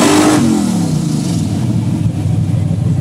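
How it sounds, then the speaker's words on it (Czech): An old Corvette engine roars up in a loud rev that descends and settles into a deep, rumbling idle, close and dominant with no talking. "někdo nastartoval a turoval tuhle starou korvetu"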